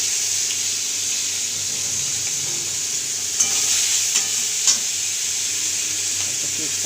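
Chopped onion and nigella seeds fry in hot oil alongside a hilsa fish head, making a loud, continuous sizzle with a few brief spoon scrapes near the middle and no voices.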